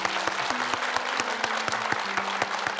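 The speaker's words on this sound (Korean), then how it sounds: "우리 저분을 위해서 박수 한번." Audience applause, dense and steady throughout, with no voices over it.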